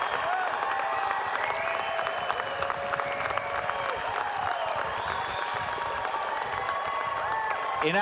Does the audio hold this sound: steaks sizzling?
no